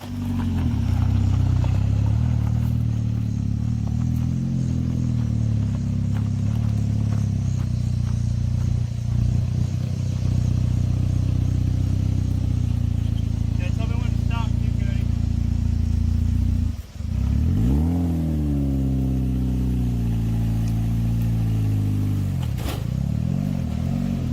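A Chevrolet Cavalier circle-track race car idles loudly and steadily, its engine revving and rising in pitch near the end as it creeps up onto a trailer, with some clattering and scraping along the way.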